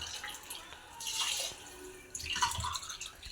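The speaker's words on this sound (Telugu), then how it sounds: "4 గ్లాసెస్ వాటర్ వేసుకోవాలి" Water is poured over basmati rice in a pot for Rayalaseema palav, two soft splashing pours separated by a pause, close and fairly quiet.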